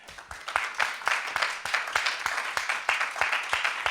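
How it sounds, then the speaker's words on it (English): Applause from a comedy show audience at a live event, with steady clapping at moderate volume. "a big round of applause at the end"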